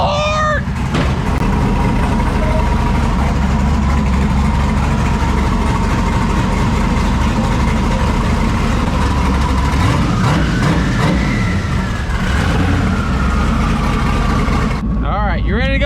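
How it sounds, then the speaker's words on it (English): A car engine turns over on a cold start and settles into a loud, steady, close idle that runs almost the whole time, with a rising whine partway through and a voice near the end. "Cold start!"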